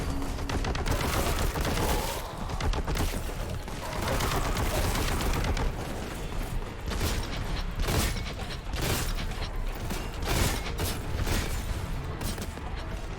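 Grenade blasts and heavy gunfire against a Terminator in Boltgun, a loud, continuous barrage of shots and mechanical clanks with repeated sharp explosive hits throughout.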